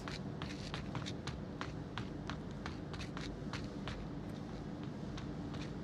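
Footsteps in the VR shooter game Onward, a steady series of soft thuds at a walking pace over a constant low background hum, moderately faint throughout with no talk.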